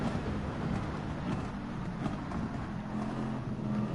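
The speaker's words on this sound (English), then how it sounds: "Damn, listen to the downshifts of that GTR" A Nissan GT-R races in Gran Turismo 7. Its engine note roars loud and continuous, with slight rises and dips in pitch as the car shifts through the gears.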